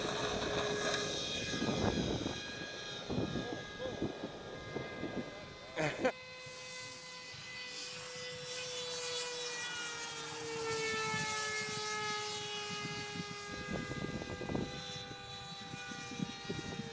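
A RaidenTech LongEZ model airplane's engine runs at full throttle, a steady high whine that sweeps slowly up and down in pitch. Voices talk over the opening seconds and again near the end.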